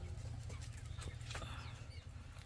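Desi native-breed chickens at a small poultry farm give a few faint, scattered clucks over a steady low background hum.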